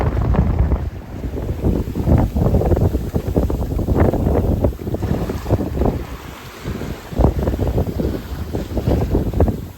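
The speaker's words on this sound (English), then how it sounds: "Still got strong winds." Strong wind buffets the microphone aboard a sailboat at sea, rumbling in uneven gusts throughout with a faint wash of water underneath.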